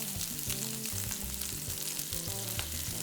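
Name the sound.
steak searing in hot oil in a pan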